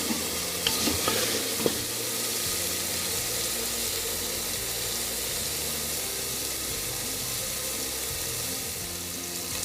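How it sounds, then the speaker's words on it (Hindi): Green chillies fry with masala in a pan, giving a dense, steady, loud sizzle close by, with a few sharp stirring scrapes near the start and no speech. "अब इसमें हरी मिर्चें शामिल करके अच्छी तरह से भून लेंगे।"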